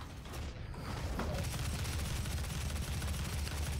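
Gunfire from the video game DOOM rolls on steadily, a dense and loud stream of rapid shots with no pauses after a brief opening, heard on its own with no talk.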